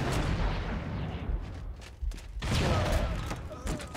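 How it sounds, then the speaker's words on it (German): A grenade blast in Halo CE Anniversary: a dense, loud burst of game combat noise with heavy booms and crackling gunfire-like bursts, a sharp dip then renewed explosive roar. "Natürlich spreng ich mich selbst weg."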